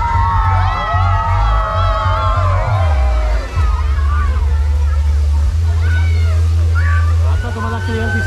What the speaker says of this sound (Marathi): हे सगळे फाउंटन्स आहेत